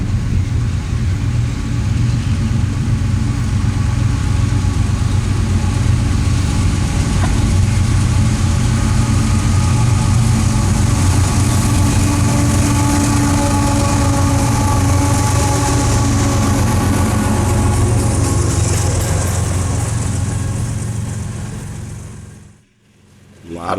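A heavy, steady diesel rumble of BNSF freight locomotives rolls past in Brainerd, Minnesota for a long stretch, loud and close, fading abruptly near the end.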